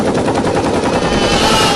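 A toy machine gun fires a rapid, unbroken burst of rattling shots, loud and close, for under two seconds with no voices over it.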